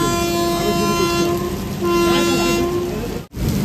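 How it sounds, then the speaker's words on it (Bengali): The Sealdah–Jalpaiguri Road Express, a new train, departing from Jalpaiguri in the rain while its horn sounds in two long, loud steady blasts with a short break between them, close by, then a sudden cut. "সিগন্যাল হয়ে গেল, হর্নও দিয়ে দিয়েছে।"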